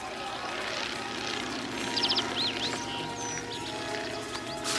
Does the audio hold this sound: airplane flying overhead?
yes